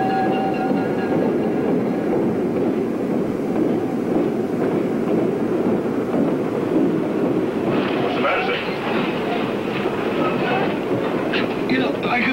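A passenger train running, with a continuous rumble and wind rush throughout and sharper rattling clatter in the last few seconds.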